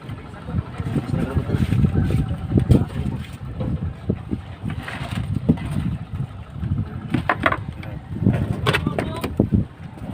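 An outboard motor on a small fishing boat chasing tuna out at sea runs steadily under heavy wind buffeting and splashing, with people talking and calling out over the engine.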